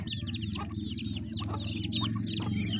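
Pet ducks in a home yard give a busy run of quick chattering quacks and clucks, several birds calling over each other at close range against a low steady background hum.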